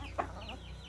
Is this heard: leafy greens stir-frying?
no